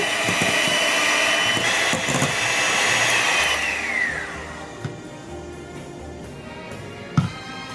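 An electric mixer whirs loudly while whipping egg whites until foamy, its high motor whine steady then tapering off partway through, followed by a few soft knocks.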